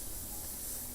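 An airbrush sprays pre-mixed paint while shading a woman's face, giving a steady, soft, continuous hiss at close range with no talking.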